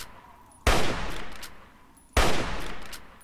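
Two heavy bursts of gunfire from the video game Fallout 3, each striking sharply and then trailing off over about a second, loud and close with no talking.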